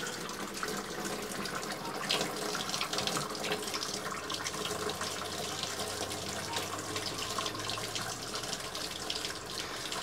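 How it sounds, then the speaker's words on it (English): Hot water running from a tap in an RV fitted with a Girard tankless water heater, a steady close hiss of flowing water splashing into a sink, continuous for the whole stretch with a low hum underneath. "Now I'm going to turn some hot water on"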